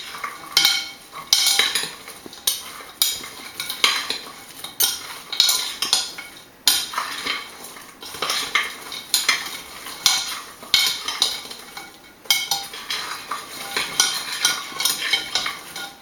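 Utensil scraping and clinking against a bowl while ingredients, bread among them, are mixed well, a steady run of repeated stirring strokes up close with brief pauses and no talk.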